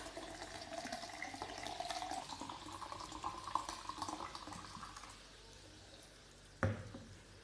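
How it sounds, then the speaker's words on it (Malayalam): Soda poured into a large glass for fulljar soda makes a soft, steady liquid stream with a fizzing rush for about five seconds, then fades to quiet before a single sharp clink near the end. "ഇനി നമ്മുടെ വലിയ ഗ്ലാസ്സിനകത്തോട്ട് നമുക്ക് സോഡ ഒഴിച്ച് കൊടുക്കാം."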